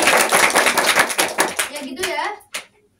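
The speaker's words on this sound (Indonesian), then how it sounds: "Tepuk tangan buat Mas Rifki." A classroom of pupils claps together during a mathematics lesson on inverse proportion, a quick burst of many hands that thins into scattered claps, a voice, and a final lone clap before falling quiet.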